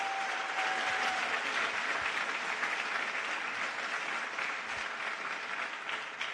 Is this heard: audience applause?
yes